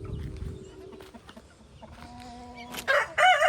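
Guinea fowl calling on a small farm, with loud harsh repeated cries bursting in near the end over quieter background clucking and farmyard noise.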